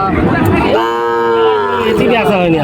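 A Sahiwal cow at a busy rural cattle market lets out a long, loud, close moo with a second rising bellow right after, amid faint crowd murmur.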